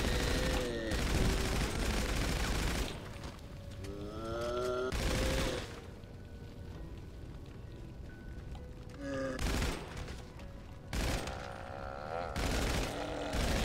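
Bursts of gunfire from a GTA Online zombie survival match, loud and dense, mixed with explosive booms and game noise; shooting cuts in and out in several stretches, with a player's voice talking over parts of it.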